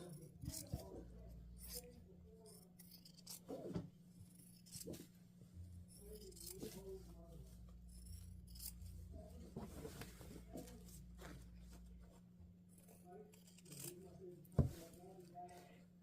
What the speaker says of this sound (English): Now I will cut this out. I'm going to cut on the outside of the chalk mark.